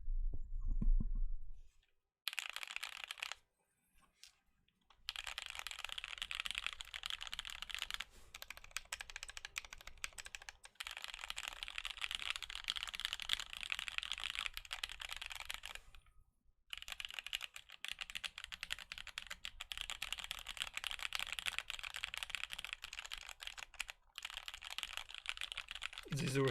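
Fast, steady typing on an Alix40 stacked acrylic mechanical keyboard, a dense run of close, crisp clacks with brief pauses, heard alone with no talk over it.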